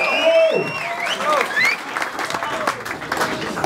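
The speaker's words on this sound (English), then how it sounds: "Make some noise for my man DOTZ." An audience at a Don't Flop rap battle claps and cheers as a battler is brought out, a steady wash of applause and crowd noise with an announcer's voice over it.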